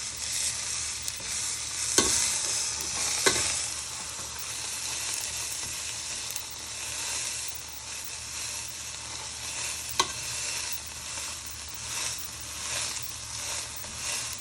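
Pork for pulled pork wraps frying in a pan after being flipped, giving a steady close sizzle with occasional sharp spatula scrapes and knocks.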